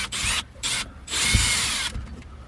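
A power drill backs screws out of the crank mechanism of a crank-up vent lid, two short whirring bursts and then a longer steady run, close and loud with no talking.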